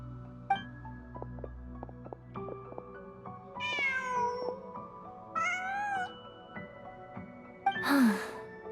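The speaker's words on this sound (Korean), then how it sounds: "고양이였나?" A cat in the Genshin Impact video game gives several drawn-out meows over a soft in-game music bed, followed by a breathy sigh-like sound at the end, with no speech.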